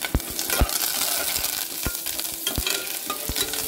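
Asafoetida, dried red chillies and curry leaves sizzle in hot tempering oil, with a steady crackling fry broken by several sharp stirring clicks from a spoon against the pan.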